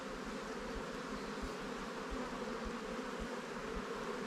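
Honey bees swarm around an open hive in a bee yard while frames of brood and honey are handled, making a dense, constant buzzing drone with no talk.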